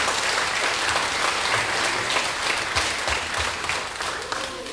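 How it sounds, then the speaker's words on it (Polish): Audience clapping for a singer at a charity concert, a full, sustained round of applause that fills the room and fades slightly toward the end, with a faint voice underneath. "Brawa, brawa, po stokroć brawa dla"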